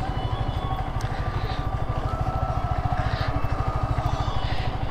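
Several motorcycles and superbikes rumble and idle together at a big bike meet-up, a steady close engine drone with a dense pulsing throb throughout, no talking.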